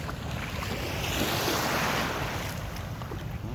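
Calm sea waves heard from a fishing boat give a steady, broad wash of water mixed with wind noise, with no speech.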